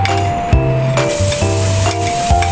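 Garlic sizzles steadily in avocado oil in a preheated pan, with a utensil scraping and clinking against the pan every second or so as it is stirred.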